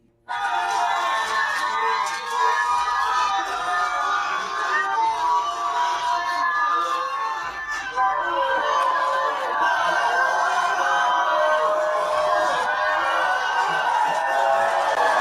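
A large crowd cheers for the president of Burkina Faso, a continuous roar of many excited voices with shouts and whistles rising over the noise.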